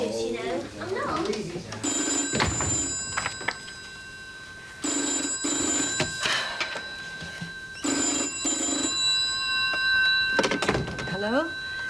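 A landline telephone rings in bursts, its bright trilling bell repeating four times at a steady rhythm, loud and close, with a person moving about and a door thunk between rings in a 1982 motel soap-opera setting.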